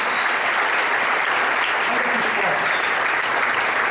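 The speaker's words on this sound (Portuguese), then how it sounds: "Vamos aplaudir a Jesus" Church congregation applauding during a testimony service, a loud, even, unbroken roar of many hands clapping close by, with faint voices underneath.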